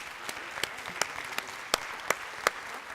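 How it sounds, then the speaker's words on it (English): An audience applauds after pitch presentations at a Tech Week pitchfest, with steady clapping plus a few sharper claps standing out, moderately close. "Another round of applause, please, for all of the presentations."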